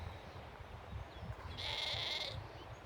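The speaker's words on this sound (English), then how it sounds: "Sheep." Sheep bleat once on a dairy sheep farm with lambs and ewes, a single fairly loud, drawn-out cry mid-clip over low wind and outdoor rumble.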